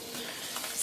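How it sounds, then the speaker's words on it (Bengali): Whole spices for tempering sizzle in hot oil in a pan while being stirred, a steady soft crackle heard close, brief and fairly quiet with no voices. "তো নেড়ে চেড়ে এভাবে এখন আমি ভেজে নিব ফোড়নটাকে"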